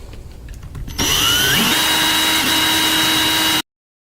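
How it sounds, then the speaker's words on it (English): A power drill fitted with a Forstner bit bores slowly through plastic, a steady loud whine starting abruptly after a quiet moment and running for a few seconds before cutting off suddenly. "using a Forstner bit is easier on the plastic, but it does take a lot longer to actually drill through the holes"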